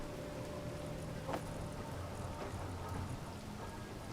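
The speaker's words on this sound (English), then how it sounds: "It's starting to rain, people." Soft, faint rain patters steadily in the game Space Engineers, a quiet constant hiss with scattered small drop ticks.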